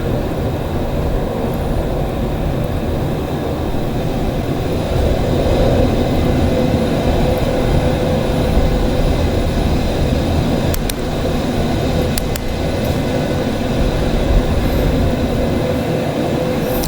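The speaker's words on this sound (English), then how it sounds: "Boeing 727 actually is meant to do all kinds of strange flights" A Boeing 727 airliner in Microsoft Flight Simulator 2020, heard as a loud, steady, broadband roar of engine and airflow that holds constant throughout, with no voices.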